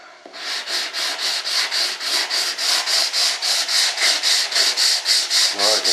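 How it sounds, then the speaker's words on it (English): Coarse 80 grit sandpaper rubs over bondo filler on a scratch-built RC jet model of a B-1 Bomber, making close, loud, steady back-and-forth strokes, about three per second, for the whole stretch. "I'm ready to start sanding it."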